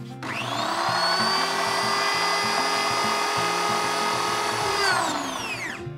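An electric hand mixer whirs steadily in a bowl of spiced Indonesian layer cake batter for a final mix, a loud close motor drone with a rattling beat from the beaters that spins down and stops near the end.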